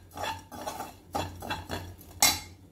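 Ingredients dry-roasting in a kadai, stirred in several distinct scraping strokes of a spoon against the metal, close and fairly quiet with short pauses between, no talking.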